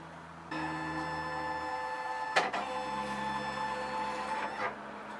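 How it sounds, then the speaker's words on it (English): A home embroidery machine switching on: a steady electronic hum starts abruptly, with a brief clunk partway through and a smaller knock near the end, all fairly quiet with no talking. "we're going to turn our machine on"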